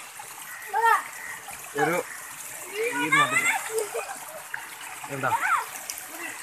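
Floodwater in Kanjirappally splashes and gushes in close bursts, with a steady flowing wash underneath, while people talk over it.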